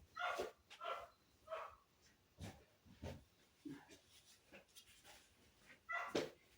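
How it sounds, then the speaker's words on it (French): A pet dog barks indoors in a home, a handful of short, sharp barks spaced irregularly across several seconds, moderately faint against a quiet room. "Désolé, c'est mon chien"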